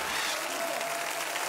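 Studio audience applauding a returning elderly guest, don Manuel, on a TV variety show; steady, fairly faint clapping fills the whole stretch alone, with no voices over it.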